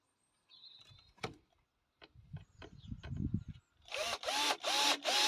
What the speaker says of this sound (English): So now I'm just going to screw them screws into there.